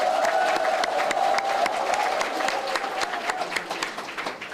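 An audience applauds at a talk concert on building a Busan independence movement memorial hall. The clapping is steady and moderately loud, with a faint sustained tone underneath, and eases off slightly toward the end.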